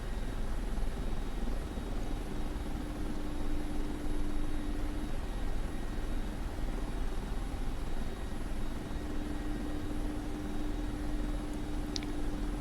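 A Mi-24P Hind helicopter in the DCS flight simulator runs its rotor and engines on the runway, a steady droning hum with a faint whine on top, constant and unbroken throughout.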